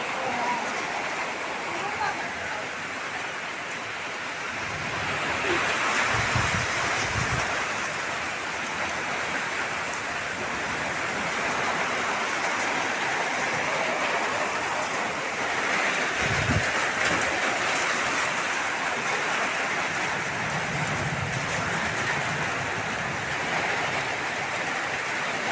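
Steady rain pours down during a storm, a dense, constant hiss at moderate loudness, with a few low thuds and gusts, while a person talks over it.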